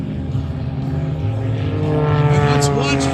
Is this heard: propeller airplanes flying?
yes